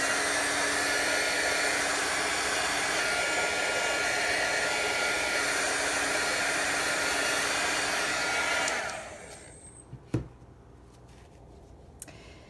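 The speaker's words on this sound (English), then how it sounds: "start with your embossing tool just to move it around and dry it in one place" An embossing heat tool drying alcohol ink on a tile blows with a loud, steady hairdryer-like whoosh for about nine seconds, then cuts off, leaving quiet with a couple of small clicks.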